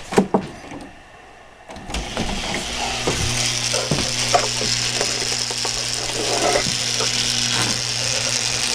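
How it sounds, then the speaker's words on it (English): An electric motor for a DIY animated Halloween prop runs steadily after a short gap, a loud, close, continuous whirring drone with ratcheting mechanical ticks and a low hum beneath. "let me plug in this motor so you can get a feel for how torquey it is"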